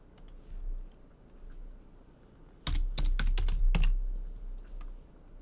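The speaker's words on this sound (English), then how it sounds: "Whoops, typed in the wrong ticker." Typing on a computer keyboard while entering stock tickers: a few light clicks, then a dense burst of louder keystrokes in the middle, fading to sparse taps, with no talking.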